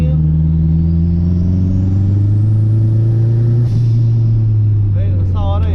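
Turbocharged Fiat 147 engine droning loudly and steadily with a rising pitch as it revs during a drive, briefly dipping near the end.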